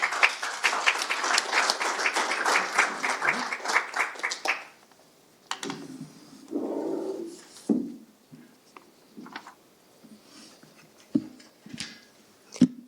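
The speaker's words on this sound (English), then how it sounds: "Can we get another round of applause?" An audience at a panel discussion on Richmond's shoreline and industrial legacy applauds in a dense burst for about four seconds, then scattered faint claps and rustling follow in a quieter room.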